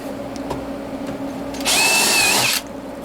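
A power drill whirs at high speed for about a second, loud and close, over a low steady room hum.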